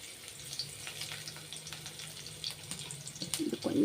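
Crushed garlic cloves fry in hot oil for a bendi fry tempering, a steady soft sizzle running throughout, with a louder crackling burst near the end.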